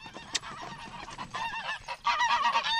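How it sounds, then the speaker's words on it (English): Geese honk repeatedly outside a house in loud, uneven bursts, several birds calling over one another at close range with brief pauses between volleys. "You can probably hear the geese in the background there."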